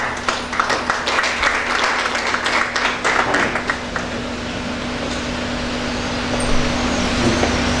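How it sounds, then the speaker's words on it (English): An audience at a civil society lecture on tax compliance gives a burst of clapping that lasts a few seconds and then fades into a steady background hum of the room. "Please, a round of applause for him."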